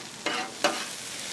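Garlic, onions and peppers sizzle on a Blackstone griddle, a soft steady frying hiss broken by two brief bursts of stirring scrapes, heard close with no talking.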